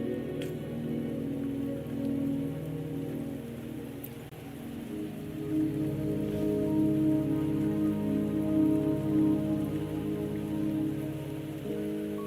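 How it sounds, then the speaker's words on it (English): Steady rain falls in the video game Wuthering Waves, a dense, even patter on surfaces that holds at a moderate level throughout, with no voices. "Don't worry, the rain won't last much longer."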